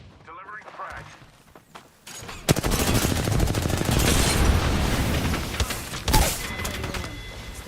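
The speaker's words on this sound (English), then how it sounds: "Delivering frag." A frag grenade goes off in a first-person shooter, a sharp loud blast at about two and a half seconds followed by a dense stretch of rapid gunfire and rumbling explosions, with a second burst near six seconds.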